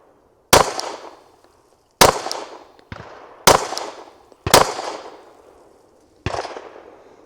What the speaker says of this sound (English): I'm gonna take a few more shots.